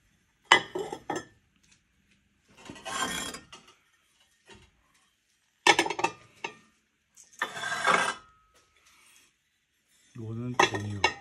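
Ceramic plates clinking and clattering as they are picked up and set down, in several separate bursts of handling with pauses between, fairly close, with a brief voice near the end.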